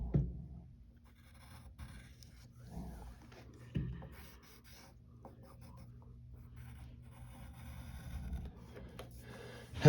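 Pencil or pen strokes drawing the outline of a cartoon character's gloved hand, soft scratchy rubbing lines repeated across the page at close range with brief pauses between strokes.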